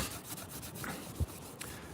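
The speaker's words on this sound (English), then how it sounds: "this little bit is gonna come off with the scuff pad" A scuff pad rubbed over car paint to remove overspray gives a soft, continuous, close scrubbing friction, with one brief thump partway through.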